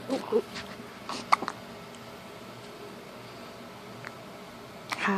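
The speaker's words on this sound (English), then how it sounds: "Got the hiccups?" A young boy hiccups a few times in short, faint bursts, spread out between quiet pauses in a calm indoor room.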